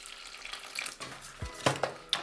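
Water is poured gradually into pancake batter in a bowl, giving soft, close splashes and a few light clinks and stirring taps, quiet and without speech.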